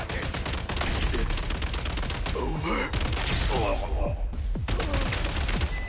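Rapid, ray-gun-like Assault attack fire in Genshin Impact sounds as a dense, continuous stream of shots over game music and effects, with a voice talking in places.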